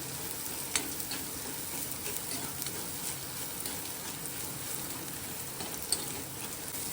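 Sliced shallots and turmeric frying in a pan while being stirred, a steady close sizzle throughout with a couple of faint scraping knocks from mixing.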